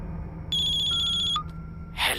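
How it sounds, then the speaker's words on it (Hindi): A phone rings with a bright electronic ringtone, a steady high tone sustained for about a second followed by a lower beep, fairly clear over a quiet background before a rustle. "किसका फोन है?"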